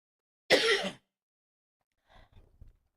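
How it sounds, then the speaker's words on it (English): One short, harsh cough or throat-clearing burst from a person with a cold, close and clear, followed by faint breathy aftershocks in an otherwise quiet room. "I'm about to have a cough attack."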